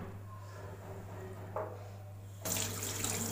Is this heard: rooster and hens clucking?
no